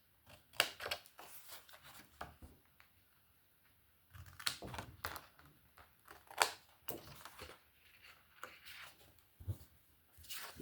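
Scissors snip repeatedly through folded paper squares, trimming their edges at an angle during a scrapbooking craft for a stepped storage project; the crisp cuts come close and in irregular bursts with short pauses, no talk.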